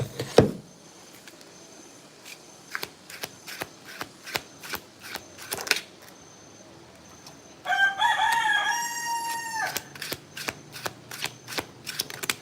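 A rooster crows loudly nearby in one long harmonic call near the end, after a stretch of sharp shuffling clicks and taps during a tarot card reading.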